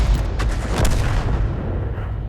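A single heavy artillery shot from a tank game booms loudly and rolls off into a rumbling tail over about two seconds.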